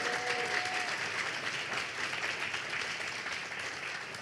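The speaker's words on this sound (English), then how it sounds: "can we give a big round of applause to all of our 2022 Global Health Impact Award finalists" An audience at the 2022 Global Health Impact Awards applauds finalists and winners, with dense, steady clapping that stays sustained and even from start to finish, heard fairly quietly.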